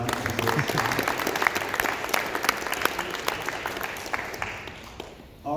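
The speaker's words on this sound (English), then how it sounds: "So I just want to give him a round of applause" An office audience at a regional stand-up meeting claps together in warm, dense applause that starts strong and slowly thins out before stopping.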